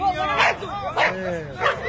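A pit bull barking and yelping during a fight with a cat, three sharp loud bursts at roughly half-second spacing, close by, with people's excited voices mixed in.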